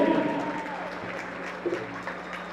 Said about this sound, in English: How about one more round of applause for our very own Judy Lehman.